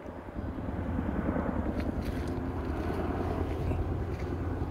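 A helicopter passing over wooded country, its low rotor thrum and engine drone steady and fairly loud for the whole stretch, with no voices over it.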